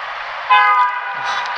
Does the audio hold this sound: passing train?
yes